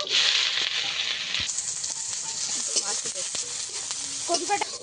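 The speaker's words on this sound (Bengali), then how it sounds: "তেল দিয়ে দেব। পেঁয়াজ আর কাঁচা লঙ্কা দিয়ে দেব।" Onion and green chilli frying in hot oil in a pan, a bright hiss that swells as they hit the oil, with utensil scrapes and light clatter through the stirring.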